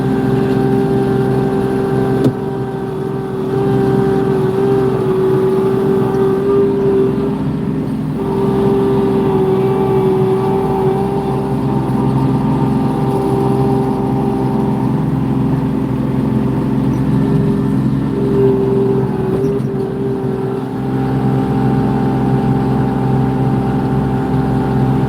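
A Kubota LX2620 HSDC tractor engine runs steadily while plowing snow in a big storm, a loud continuous drone with a humming tone that dips and rises slightly.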